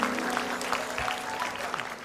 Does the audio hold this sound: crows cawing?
no